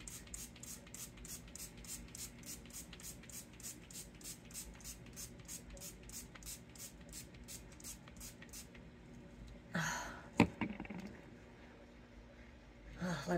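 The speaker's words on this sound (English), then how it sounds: "I'm gonna spray my facial mist like I usually do every day." Facial mist sprays from a bottle in brief close hissing spritzes near the end, after a stretch of quiet, faintly ticking background.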